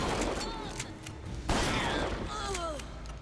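Shotgun blasts in the video game BioShock Infinite (Burial at Sea) ring out as several sharp, loud bursts within about three seconds, with thin electronic game tones sweeping in between.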